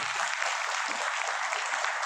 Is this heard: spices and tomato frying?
no